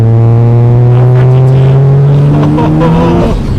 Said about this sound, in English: the sound of the Rotary engine, this is something different